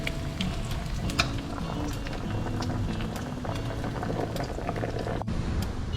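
Food sizzles and crackles steadily in a hot pan, a continuous bubbling fry with scattered pops, fairly close.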